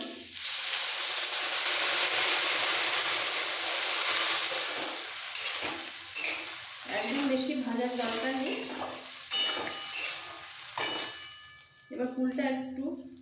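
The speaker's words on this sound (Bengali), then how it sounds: "এবার সব একসাথে মিক্স করে দিয়ে দেবো সামান্য একটু জল" Ripe jujube plum chutney simmers and is stirred with a little water in a pan, a loud frying hiss at first that fades into intermittent stirring, with a voice speaking over the later part.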